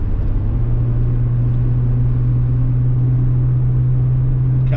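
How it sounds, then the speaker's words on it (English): A car engine strains uphill on the San Bernardino Pass, a continuous low droning hum that stays level and close throughout. "Car's struggling now."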